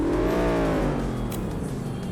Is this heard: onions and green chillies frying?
no